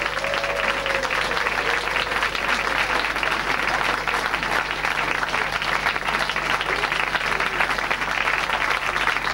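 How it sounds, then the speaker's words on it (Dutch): Studio audience on a dating game show applauding, a constant dense wash of clapping with a faint voice briefly heard early on. "Hartelijk welkom en applaus!"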